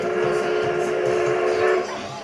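A Durango and Silverton Narrow Gauge Railroad train rumbles steadily with a sustained tonal whistle-like drone, fairly loud and continuous before easing off at the end.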